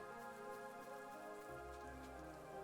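Steady rain falls in the Chained Echoes video game, a soft continuous patter layered over a sustained musical drone, even and unbroken throughout.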